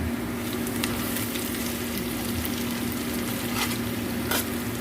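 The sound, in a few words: stirring onions and green chili paste frying in a pan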